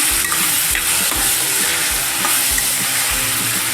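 Onion and tomato stirred and frying in a pan for a chicken biryani gravy, a loud continuous sizzle with repeated scraping strokes of the spoon, close up and without talk.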